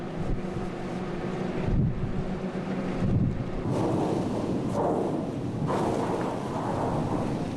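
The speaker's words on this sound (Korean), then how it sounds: "아라온의 돌진에 하얀 얼음판이 시원하게 갈라지지만" The Korean icebreaker Araon rams into roughly one-meter-thick sea ice with a deep grinding rumble. Heavy cracking and crunching bursts rise over strong wind noise on the microphone, all close and continuous.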